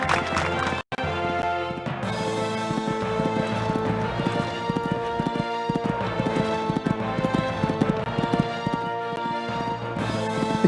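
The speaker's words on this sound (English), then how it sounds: "Going at a good gallop." A horse gallops over a cross-country eventing course, its hoofbeats a fast, steady drumming that runs on without a break, with a constant tonal background underneath.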